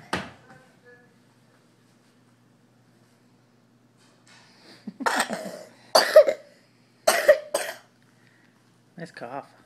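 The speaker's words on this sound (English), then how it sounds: "Nice cough." A few sharp, close coughs come in quick succession, with quiet pauses before and brief vocal sounds at the edges.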